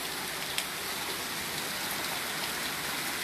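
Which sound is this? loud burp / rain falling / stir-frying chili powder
rain falling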